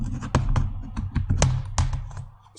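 Close, brisk typing on a computer keyboard, irregular clicks and taps in quick bursts with brief pauses, no talking over it.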